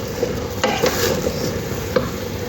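A bitter gourd and bottle gourd poriyal stir-fry being stirred in a pan, with a loud steady sizzle and a few sharp scraping spoon strokes close by, no voices.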